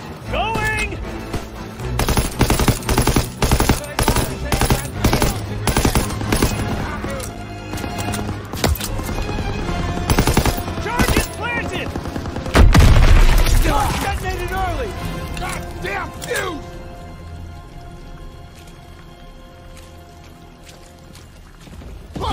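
Bursts of rapid machine gun fire and explosions from a World War II battle in the video game Call of Duty WWII, loud and dense for the first half, then sparser shots under shouted voices and music.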